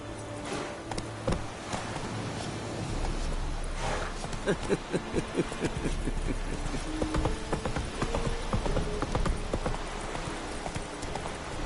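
Horse hooves clip-clop in a video game, a close, steady run of rhythmic hoofbeats that grows more distinct after the opening seconds, over a low ambient rumble with no talking.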